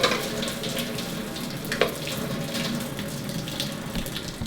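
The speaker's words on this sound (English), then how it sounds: "we're going to dump out all of the hot water." Hot water from a pot of boiled eggs dumped through a strainer, a steady close splashing gush running the whole time with no talk over it.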